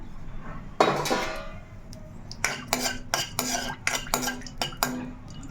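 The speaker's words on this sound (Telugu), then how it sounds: "నేనైతే జీడిపప్పు అయితే వేసుకుంటున్నాను" Cashew nuts go into a pan of oil for a mutton curry, heard as a soft scrape followed by a series of sharp metallic clinks and taps from a utensil against the pan.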